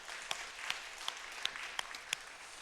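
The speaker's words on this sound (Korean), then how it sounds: "우리 한번 박수로 영광 올려드릴까요?" A church congregation at a Sunday morning service claps together in a rhythmic beat of about seven evenly spaced hand claps, heard faintly at a distance.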